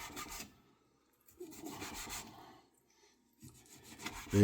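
A German-made knife saws through something firm up close in three rough, rasping bursts separated by short pauses.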